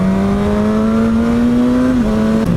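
Loud, close engine of a 2019 Suzuki GSX-S1000 motorcycle, a 150-horsepower bike, climbing steadily in pitch under acceleration, then dropping sharply with a quick clutchless upshift and continuing with another brief shift near the end.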